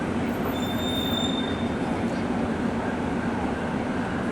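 A Prague tram rolls along its rails with a constant loud rumble, and a thin high wheel squeal rises early on and then fades.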